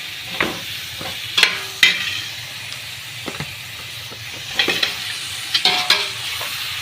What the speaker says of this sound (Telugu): కొంతసేపు అయితే మసాలా అలా తిప్పాలండి